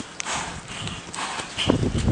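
A pregnant horse walking slowly, its hooves clip-clopping in an uneven rhythm, close and fairly loud, with some outdoor background noise.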